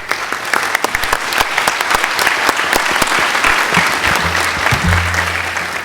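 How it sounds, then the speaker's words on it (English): A conference audience at an aviation security session claps for a morning panel, loud sustained applause filling the room, with a brief hum near the end. "a hand of applause for our panel this morning"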